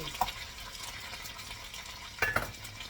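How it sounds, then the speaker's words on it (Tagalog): Fish frying in a pan, a quiet steady sizzle with two brief clinks of a utensil against the pan, one early and one near the end, no talking. "Ipiprito ko muna yung isda natin."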